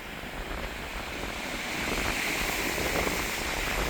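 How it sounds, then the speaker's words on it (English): Waves crashing on a beach on the north shore of Malcolm Island, a continuous broad wash of surf building slightly louder over a few seconds, heard alone without voices. "waves just hit and crash the beach here"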